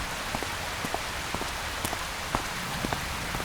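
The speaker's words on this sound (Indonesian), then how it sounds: "tiba-tiba hujan turun sangat deras" Heavy rain pours in an animated cartoon, a dense continuous hiss with scattered individual drops pattering on a surface, steady and alone for a few seconds.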